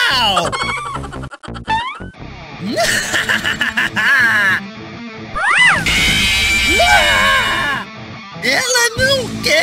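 Repeated high, wavering cat meows up close, mixed with chuckling and lively voices, several drawn-out cries rising and falling in pitch.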